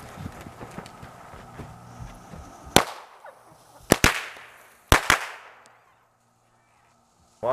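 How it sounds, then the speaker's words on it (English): Firecrackers from a 16-pack go off inside a lidded container with cream cheese, giving a few sharp separate bangs spaced about a second apart, each with a brief rattling tail, over low background rustle. "Put your firecrackers in here. Put the lid on. And light the fuse."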